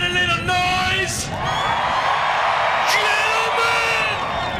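Large crowd at the Talladega racetrack during a NASCAR race cheering, whooping and yelling, loud and sustained with shouts rising and falling.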